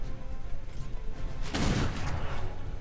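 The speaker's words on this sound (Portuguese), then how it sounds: "Aí, dei dois tiros." A single loud gunshot cracks midway through from the video game Atlas during a fight with island pirates, standing out over a steady low game rumble.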